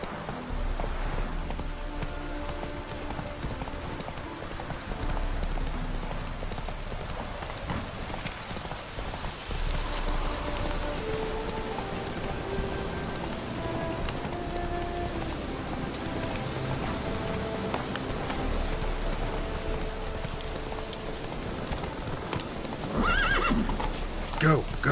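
Witcher 3 horse hooves clip-clop steadily through falling rain, with occasional whinnies and a voice talking over the ride, weather and hoofbeats continuous and close.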